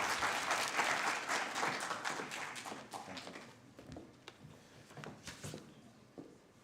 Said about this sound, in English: Let's give him a warm round of applause as he makes his way on stage.